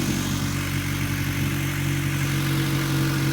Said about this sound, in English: it's also cold and revving high, so we gotta let it warm up